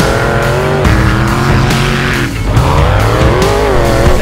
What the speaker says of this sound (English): Today, we are at the Little Sahara Sand Dune so that Master Chief can drive a real-life Warthog